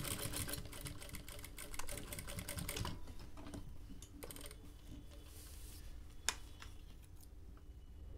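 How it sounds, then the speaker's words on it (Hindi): A sewing machine stitches fabric for a homemade hanging organizer, giving a steady, close mechanical whir that runs the whole time with no voices and one sharp click near the end. "ऐसे हम आगे तक इसके ऊपर सिलाई करेंगे"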